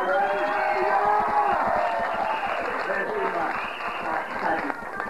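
Wedding guests applaud the bride's parents, a dense, steady patter of many hands clapping close by, with crowd murmur underneath, easing slightly toward the end.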